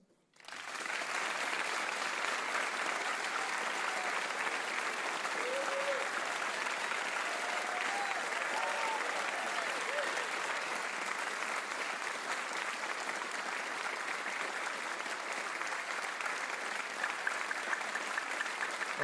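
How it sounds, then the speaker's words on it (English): Sustained studio audience applause at a live-streamed music show, a dense, even wall of clapping that starts abruptly and holds loud and steady for the full length, with faint crowd voices underneath. "Now I want you to applaud."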